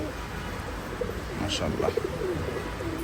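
A bright red pair of pigeons coos softly and intermittently in the rain, the low calls sitting beneath a steady wet hiss while someone speaks briefly nearby.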